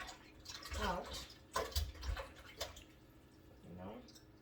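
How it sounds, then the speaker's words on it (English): Tap water runs and splashes in bursts as raw chicken is rinsed and its fat trimmed in a home kitchen, with someone talking over the intermittent running water. "Wash this meat really good."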